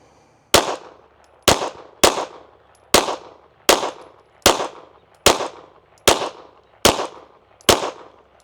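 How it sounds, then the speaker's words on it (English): Ten sharp, loud pistol shots from a Canik fitted with a red dot sight, fired outdoors at a target at a steady pace of roughly one shot per second, each with a short decaying echo. "we're going to shoot another group at the right middle target"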